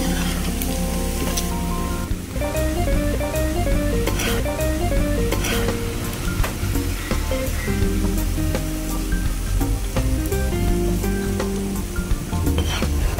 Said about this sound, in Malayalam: ഇത് എണ്ണയിൽ നമ്മൾ വറുത്തെടുക്കുമ്പോൾ തന്നെ നമുക്ക് വെന്ത് കിട്ടും